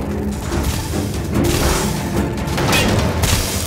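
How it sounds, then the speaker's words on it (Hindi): A big explosion in a Max Steel animated action cartoon dubbed in Urdu produces a sustained, loud rumbling boom with crashing debris-like noise that swells and continues for several seconds. "मैक्स, बड़े धमाके वाला सीन।"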